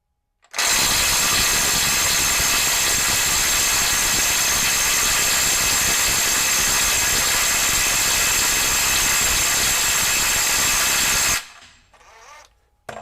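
A RIDGID SubCompact impact wrench on a 2 Ah battery with a 1/2-inch drive hammers continuously at bolts torqued to 500, a loud, steady rattling burst lasting about eleven seconds before cutting off abruptly.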